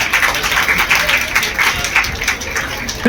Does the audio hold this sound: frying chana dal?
no